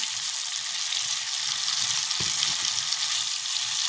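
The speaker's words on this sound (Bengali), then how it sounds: "দিয়ে আবারও ভালো করে নাড়াচাড়া করে ভেজে নেব, যাতে মশলার গন্ধটা না থাকে" Ground cumin, coriander, salt and sugar sizzle in a pan for palak paneer, a steady bright hiss punctuated by a few soft scrapes as they are stirred.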